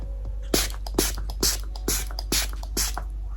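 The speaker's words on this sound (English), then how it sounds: "I'm just going to spray my face" Six short hissing bursts of makeup setting spray misted onto a face, evenly spaced about half a second apart, close by with a low hum underneath.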